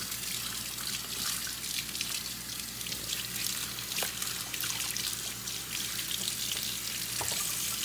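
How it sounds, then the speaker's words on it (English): Tap water runs steadily while hands are washed beneath it in a kitchen, a continuous soft splashing hiss with small irregular drips and clicks, fairly quiet and without speech. "I'm gonna wash my hands real quickly"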